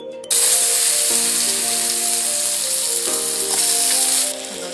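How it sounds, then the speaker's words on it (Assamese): Two cut potatoes drop into hot oil and fry with a sudden, loud, close sizzle that holds steady, then eases slightly near the end, with no voices. "তেলটো গৰম হ'বলৈ দিছিলোঁ, গৰম হ'ল। আলু 2টা মই কাটি লৈছিলোঁ, এতিয়া ফ্ৰাই কৰি লওঁ।"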